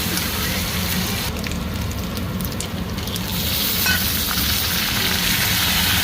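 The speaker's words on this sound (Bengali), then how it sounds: "পেঁয়াজে দিয়ে দেবো আদা রসুন বাটা, পেঁয়াজের সাথে ভালো করে ভেজে নেব।" Onion with ginger-garlic paste frying in a pan, a steady close sizzle with soft crackles and occasional stirring scrapes, no talking.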